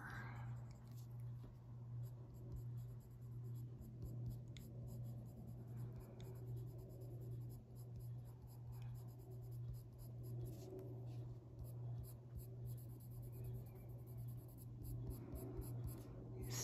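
Colored pencils, Luminance and Polychromos, stroke across drafting film in steady, quiet scratchy passes, a continuous soft rasp with a low hum underneath.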